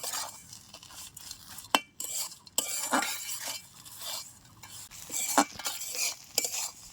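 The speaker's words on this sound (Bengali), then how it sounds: "তুলে নিয়ে মশলাটা ভেজে নেব" Spices sizzle as they are fried until red in a pan for a salted hilsa mash, while a spoon scrapes and clinks against the metal in irregular stirring strokes, close and moderately loud.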